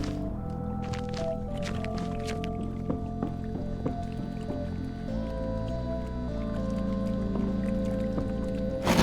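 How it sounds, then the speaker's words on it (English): A shaken petrol can in a video game, with a small amount of fuel sloshing and dripping at the bottom, faint wet squishes over a steady low ambient hum and tones. "I shake the can, slosh of petrol at the bottom."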